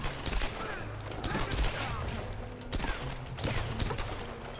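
Gunfire from a gun in the video game Tomb Raider: a series of sharp, loud shots in quick irregular bursts over a busy background din, with some speech mixed in.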